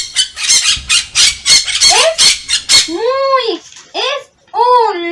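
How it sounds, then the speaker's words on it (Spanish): A parrot squawks in a rapid series of loud, harsh close calls, followed by a few longer rising-and-falling squawks with short pauses between. "Es un loro."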